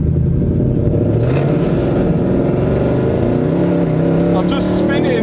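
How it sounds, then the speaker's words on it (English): A Mercedes C63 AMG engine with long tube headers roars close by under acceleration on the road, its exhaust note rising in pitch, with bursts of other noise briefly cutting through. "we've never actually heard this exhaust with the long tube headers on under load on the road"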